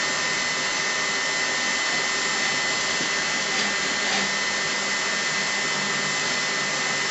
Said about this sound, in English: I like to let the heat gun do most of the work.